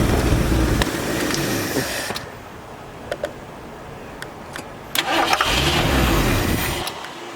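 A 1973 Ford Torino Sport Fastback, sitting three years with old gas in the carburetor, cranks loudly, goes quiet with a few clicks, then cranks again and catches into a rough running rumble.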